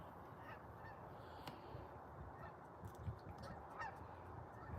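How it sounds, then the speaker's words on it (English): Geese calling faintly in the distance as they fly over, a few scattered honks rising above a steady low rumble of background noise, with no voices. "Oh, here's some more geese."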